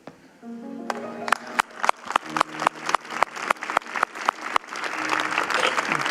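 Applause rises from a congregation at a Sunday church service, beginning with a few claps and swelling into rhythmic group clapping that builds to a fuller ovation.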